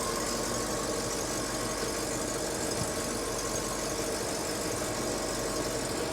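A Holden VP Commodore-based Senator car engine idles in neutral with a steady, dense rumble and faint knocking, continuous and close with no talking.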